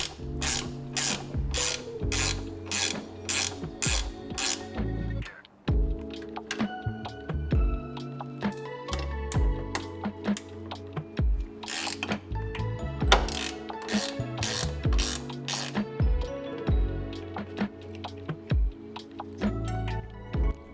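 A hand ratchet clicking in fast bursts while hood latch bolts come off a 2021 Subaru WRX, close and crisp, with short pauses between runs of rapid pawl clicks and some metallic handling noises.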